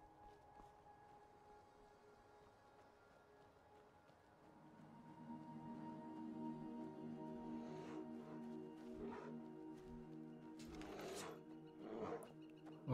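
A bear roars in the video game Enderal, building from about four seconds into a sustained low growling rumble with rising bursts, moderately loud against ambient game background.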